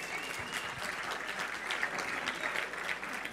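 Steady, moderately loud applause from a student audience at a sports management evening at a university in Dijon, sustained for the whole span without a break.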